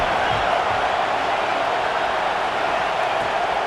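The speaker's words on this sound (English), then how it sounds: "The Tide crowd rolling noise down onto Saban Field on 3rd down" Stadium crowd at Saban Field in College Football 26, a dense, steady roar of many voices that stays loud and even throughout.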